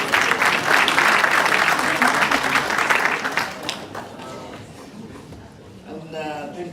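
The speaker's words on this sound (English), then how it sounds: "Another round of applause for our panelists." Audience applause for panelists at an investment conference, loud dense clapping for about three seconds that thins out and fades, with a voice speaking near the end.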